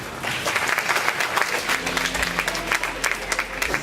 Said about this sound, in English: Let's give her another round of applause, guys.